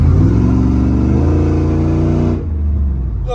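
Truck engine with a freshly swapped 4L80 transmission (replacing a 4L60) idles and revs loud and close, a rich low rumble that drops off sharply near the end.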